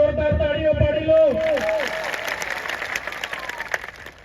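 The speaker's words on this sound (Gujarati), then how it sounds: "પોલીસ અધિકારીઓ જે આપણા બંદોબસ્તમાં છે એમના માટે જોરદાર તાળીઓ પાડી લો" Crowd at an outdoor political rally in Zariya breaks into applause for the police officers on duty, dense clapping and cheering building up after a speaker's voice fades out at the start.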